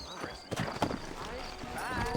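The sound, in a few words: horse hooves and whinny in video game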